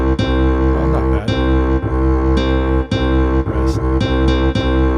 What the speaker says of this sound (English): that is the sound of our composition with a classical guitar on the top, a double bass on the bottom